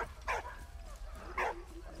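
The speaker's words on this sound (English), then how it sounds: "What's he barking at?" A dog in the video game Valiant Hearts gives two sharp, close barks about a second apart, with faint whimpery yips trailing between them.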